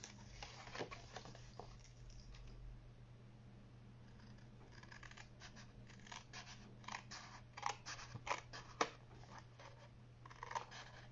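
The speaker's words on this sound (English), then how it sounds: "cut along those lines" Scissors cut through card for a fancy-fold craft project, making soft, quick snips in short bursts that cluster toward the end, heard alone in a quiet room over a low steady hum.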